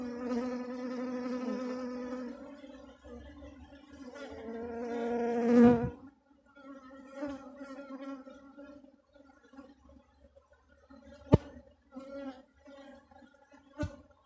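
Honeybees on a hive frame make a close, buzzing hum with shifting pitch that swells and fades, and there are brief clicks and handling knocks.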